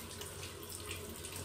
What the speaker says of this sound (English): You catch the water and just splash it on your face.